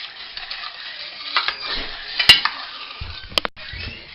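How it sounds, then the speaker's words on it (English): A caramel mixture in a pan over medium heat, stirred with scraping and rattling strokes and a couple of sharp clicks, fairly close and moderately loud, with no voices. "Now you need to stir the mixture over medium heat."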